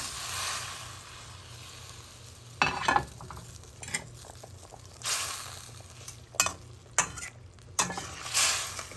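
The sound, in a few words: hilsa fish pieces added to boiling cumin curry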